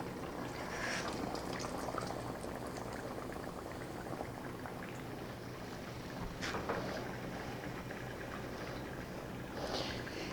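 Chicken chimichangas frying in hot oil, several pieces in the pan at once, giving a steady, dense bubbling sizzle that stays fairly loud and even throughout, with a few brief bursts of stronger crackle.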